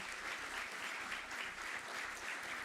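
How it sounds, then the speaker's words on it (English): A room full of attendees at a policy conference applauds steadily, dense even clapping sustained throughout at a moderate level with no voices over it. "give a huge round of applause for Eli Lipmen"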